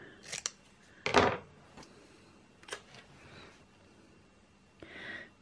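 Scissors trimming a paper sticker during planner decorating, producing a few short, crisp snips and rustles spaced irregularly at close range, in a quiet room.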